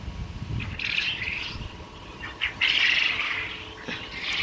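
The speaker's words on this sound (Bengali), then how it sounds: "এই পাখিগুলো অরিজিনাল জাপানি জাতের কোয়েল পাখি" Japanese quail in a small egg-laying farm flock chirp in short, repeated high calls, close and moderately loud, with no talking.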